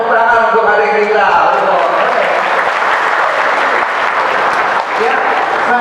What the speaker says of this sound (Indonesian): Tepuk tangan untuk adik kita.